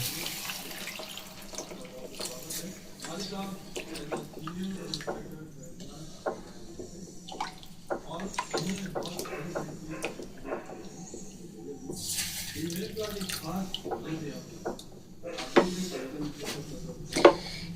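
Hot water poured into a pan of jackfruit curry with well-fried spices, a steady watery pour and splash running throughout with scattered clinks and bumps, close and moderately loud, with a voice speaking over it.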